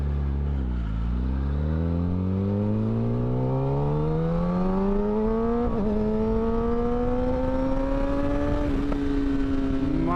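A Kawasaki Ninja ZX10R motorcycle engine revving up through the gears while riding, rising whining tone with brief dips at shifts, loud and close under steady wind rush.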